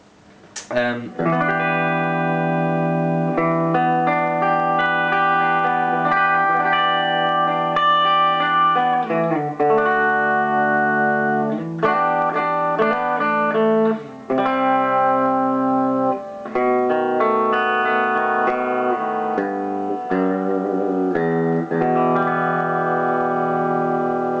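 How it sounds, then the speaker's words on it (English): Clean electric guitar notes and chords from a modified Epiphone Les Paul Standard on its bridge DiMarzio pickup ring out with a soft reverb tail, played continuously and fairly loud, with brief pauses between phrases. "just a little bit of reverb, and I'll start playing it clean on the bridge, the dimarzio"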